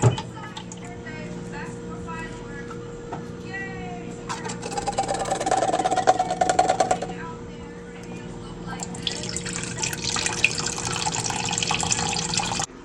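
Heavy whipping cream poured into a bowl of evaporated and sweetened condensed milk for a pumpkin spice tres leches cake, a steady liquid stream with dripping and a brief squishy fill, close and moderate over faint kitchen hum.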